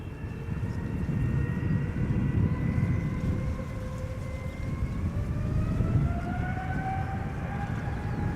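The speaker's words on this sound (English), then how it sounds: "KLM flight 591 is coming this way. It's 777-300ER going to Johannesburg, South Africa" A KLM Boeing 777-300ER bound for Johannesburg departs Amsterdam Schiphol, its engines roaring loud and steady up close with a rising whine layered over deep rumble, and no voices.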